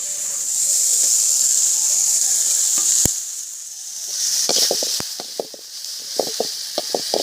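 Ginger garlic paste sizzles loudly with banana stem in a pan at an outdoor village field, a steady frying hiss broken by sharp clicks and scrapes of stirring.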